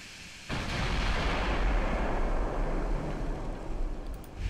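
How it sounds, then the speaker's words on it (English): Heavy battleship broadside in the naval combat game Ultimate Admiral: Dreadnoughts erupts after a brief quiet, a sustained rumbling roar of big guns and booming blasts that stays loud and dense to the end. "we're going to turn, get a full broadside going"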